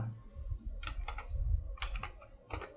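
Bursts of clicky keystrokes on a computer keyboard as text is typed, short clusters of taps separated by brief pauses, with a low background hum and no speech.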